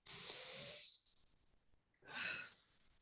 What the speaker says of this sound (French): Juste prends une grande respiration, s'il te plaît.